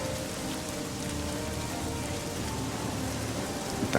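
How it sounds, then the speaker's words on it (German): Steady rain in the video game Submerged, a dense, continuous hiss of drops pattering on surfaces, loud and even throughout with no voices over it. "Es regnet."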